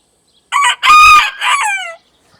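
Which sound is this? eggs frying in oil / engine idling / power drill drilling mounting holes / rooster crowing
rooster crowing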